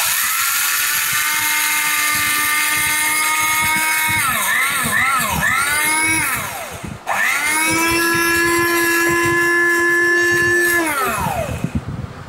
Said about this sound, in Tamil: இந்த ஃப்ளாட் லிட் போட்டு நம்ம அரைக்க போகிறோம்.